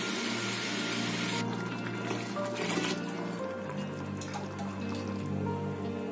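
Water pours steadily into a pressure cooker for mutton biryani, a continuous splashing rush that shifts in tone partway through, with no talking.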